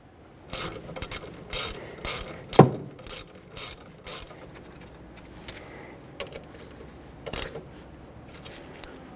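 A ratchet snugs up brake caliper bolts on a 2006-2010 Hyundai Sonata during a parking brake shoe job, giving a series of short, close clicking bursts with pauses between them and no talking.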